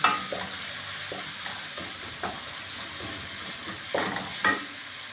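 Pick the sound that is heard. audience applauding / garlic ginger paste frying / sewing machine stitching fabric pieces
garlic ginger paste frying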